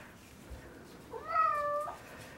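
A single drawn-out cat meow rises and falls over quiet room noise, fairly faint and close, lasting under a second.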